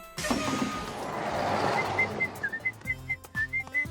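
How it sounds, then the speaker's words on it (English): A cartoon character whistles a bright, simple melody of short rising and falling notes, Pokémon's Kanto Route 1 theme, over steady background noise, with a few low thumps near the end. "he's whistling a familiar tune"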